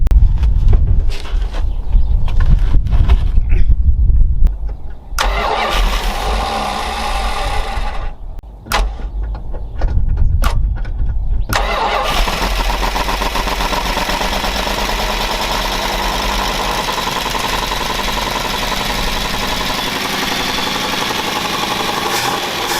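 An old Mopar car engine that had sat for 20 years in the desert cranks with uneven bursts, sputters, then catches and settles into a loud, steady, rough idle that runs alone for the rest of the stretch.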